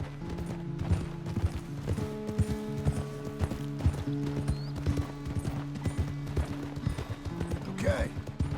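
Horse hooves clip-clopping in a steady walking rhythm in the video game Red Dead Redemption 2, with people talking over the steps and a short horse whinny near the end.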